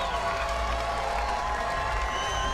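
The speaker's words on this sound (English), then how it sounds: "The crowd is going bonkers here." A crowd at a women's street skateboarding final roars and cheers steadily, with applause and whoops blending into a dense, continuous wall of noise throughout.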